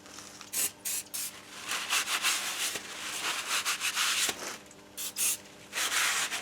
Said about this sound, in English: if you have worked with braking disc, it's good practice to clean it afterwards